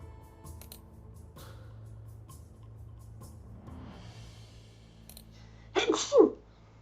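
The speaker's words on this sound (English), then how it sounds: "I only sneezed once." A single sharp sneeze bursts out near the end, close and loud, after quiet room tone with faint background clicks during a tabletop roleplaying game session.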